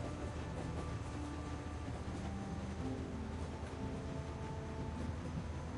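Continuous low rumble and rattle of a moving train in The Walking Dead video game, a dense steady roar with faint tonal squeals, heard alone without speech.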